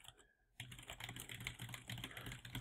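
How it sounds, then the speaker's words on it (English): Typing on a computer keyboard while entering text in the Vim editor on Linux, a dense, steady run of rapid key clicks close to the microphone that starts after a brief quiet moment. "I can start typing text."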